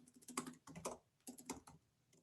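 Someone types on a computer keyboard in quick bursts of clicky keystrokes, with short pauses between the runs, heard close up and alone.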